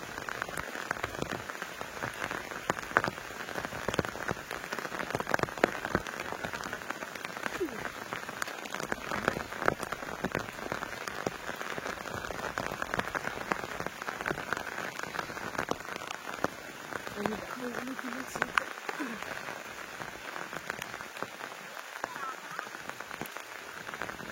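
Steady rain pattering on surfaces in a garden during a potato harvest, dense and continuous throughout, with occasional faint sounds of movement nearby.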